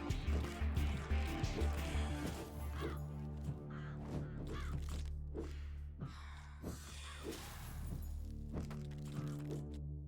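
Cawing and thudding hits from the Ravens of Pestilence in the video game Death Must Die, repeated sharp caws and cracks in quick bursts during combat, fairly quiet overall.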